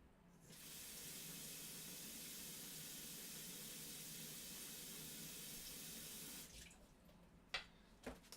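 A kitchen tap runs to refill a drink, a steady close hiss of water pouring for about six seconds before it shuts off, followed by a few soft knocks and clinks.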